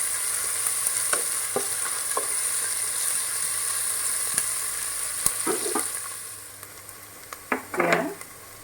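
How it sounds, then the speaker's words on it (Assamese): Chopped onions fry in oil over a medium flame with a steady, close sizzle. A spoon stirs and scrapes the pan now and then, and louder scraping comes near the end. "পিঁয়াজখিনি অলপ ৰঙা হোৱালৈকে মিডিয়াম ফ্লেমত অলপ সময় ভাজি ল'ব।"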